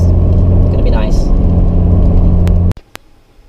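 A car with newly installed brakes slows down, its low engine and road rumble droning steadily and loudly before cutting off abruptly, followed by a few faint clicks.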